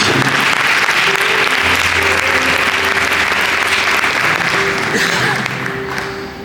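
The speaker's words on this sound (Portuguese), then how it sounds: "Dá um aplauso bem forte à palavra viva do Deus." A church audience breaks into loud, sustained applause after a sermon, dense clapping that fills the room and fades slightly at the end, with voices and a held tone underneath.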